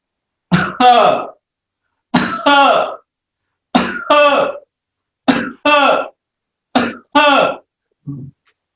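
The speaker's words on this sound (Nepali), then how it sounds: "मुख बन्द गरेर खोक्ने एकचोटि" Five deliberate coughs with the mouth closed, each a sharp double burst, spaced evenly with silent pauses between, close and loud.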